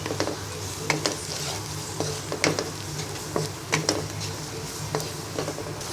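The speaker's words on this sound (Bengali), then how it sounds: "এবার মশলাটাকে ভালো করে নেড়ে দশ মিনিট কষিয়ে নিব" Masala spiced with turmeric and chili powder fries in a pan for a snakehead fish curry, a continuous sizzle broken by sharp scrapes and taps of a spoon stirring against the pan, close and unaccompanied by speech.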